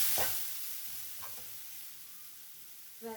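Onion, ginger and green chili sauté with turmeric in a pan, a soft hissing sizzle with a few spoon scrapes at the start and a clatter near the end, fairly faint and without speech.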